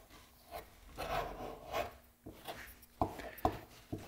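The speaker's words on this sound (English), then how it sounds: "Then use a putty knife" A putty knife packs filler into a wooden paddle board, scraping and rubbing in short strokes, with a few sharper taps near the end, close and fairly quiet.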